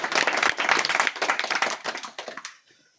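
A gathered group of villagers claps hard and fast in a dense burst of applause for a daughter leaving to join the BSF, the clapping thinning out and stopping near the end.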